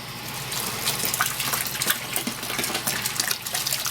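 Cold water running steadily through tubing into a sanitized Coopers English Bitter brewing fermenter, a continuous close gushing and splashing rush with small bubbling fluctuations, no talking.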